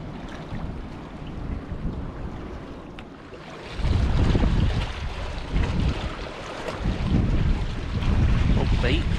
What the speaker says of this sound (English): I think it is less wind, but still kind of windy.